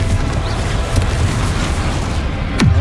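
A Confringo blasting-spell explosion in Hogwarts Legacy, a loud, continuous booming rumble with heavy low end and a sharp burst near the end.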